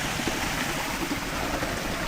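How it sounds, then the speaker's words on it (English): Spring water gushes out of a clogged pipe after heavy rain, a loud, continuous rushing and splashing wash that stays even throughout, with no voices. "Look at the water coming out of that thing."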